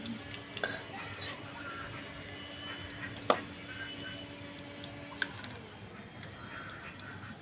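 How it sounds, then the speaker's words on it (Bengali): Onions going into hot oil left from frying pointed gourd, making a low, steady background sizzle with a few sharp utensil clicks and knocks against the pan, heard close. "এই তেলেই পেঁয়াজ দিয়ে দেবো।"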